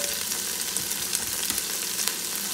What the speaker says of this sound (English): we're just going to cook these veggies a little